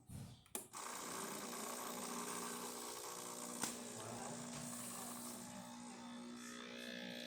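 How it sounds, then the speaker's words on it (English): A freshly serviced espresso machine pulls a shot after a clunk of the portafilter, then runs with a continuous pump hum and a steady mechanical drone, and a single sharp tick sounds midway. "Let's pull a shot."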